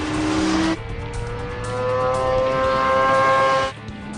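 Kawasaki Ninja motorcycle engine screams at high revs on the Autopolis race circuit, close and loud, with a sharp gear shift early and a drop in pitch near the end; no speech.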